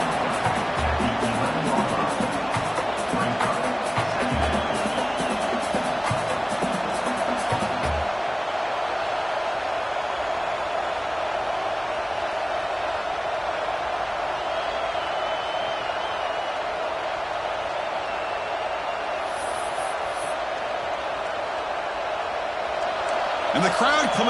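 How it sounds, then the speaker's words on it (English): A stadium crowd at a football game roars steadily as the defense holds in the red zone, a dense, loud wash of noise that persists throughout and swells near the end, with commentator talk early on. "And the crowd coming to life here, trying to help this defense down in the red zone"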